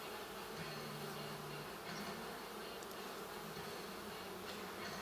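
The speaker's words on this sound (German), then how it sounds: "Die Bienen haben sich schon eingeflogen." Dense, steady buzzing of honeybees at the entrance of a hive formed from two united colonies, a continuous close-up drone that holds evenly throughout with no voices.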